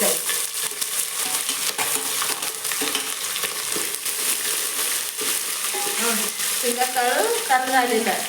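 Onions and curry leaves frying in hot oil in a pan while being stirred, a steady sizzle with scraping and clattering of the spoon, loud and close throughout.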